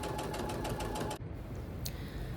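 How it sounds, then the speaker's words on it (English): A sewing machine stitches down the side of a continuous bias tape fabric tube, running loud and steady with a rapid rhythmic whir that breaks off partway, leaving a quieter hum. "And I just sew down the side."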